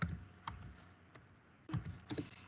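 Computer keyboard typing while writing Java code: scattered bursts of key clicks, a few quick taps then a pause and another cluster, close and fairly quiet, with no talking.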